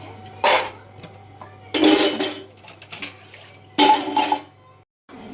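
Steel dishes and utensils clatter in three loud, close bursts of clinking and scraping during washing, with quiet pauses and a faint hum between them.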